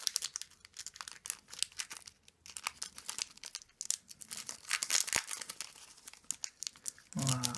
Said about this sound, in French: Hop, on va essayer de bien ouvrir le paquet.